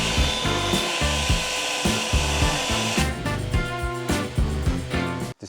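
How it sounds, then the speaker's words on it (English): Sanding an old wood beam for a mid-century modern table: a loud, continuous power-sander whir with rhythmic rubbing strokes against the wood, heard close up. "A little bit more sanding to get this all tight."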